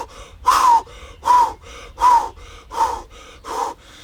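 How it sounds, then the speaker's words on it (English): Deep rhythmic breathing in a shamanic style, loud and close, with about five forceful inhale-exhale cycles roughly every 0.8 seconds, each a sharp gasping rush of air. "like a deep shamanic breathing"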